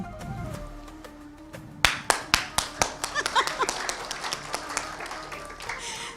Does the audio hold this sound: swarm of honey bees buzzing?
no